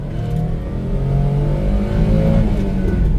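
A Suzuki dump truck accelerates hard uphill, its engine revving loudly and steadily through the gears with rising pitch and a brief dip at each shift, close and continuous with no voices.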